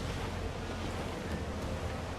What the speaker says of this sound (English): you can see them crashing against my ship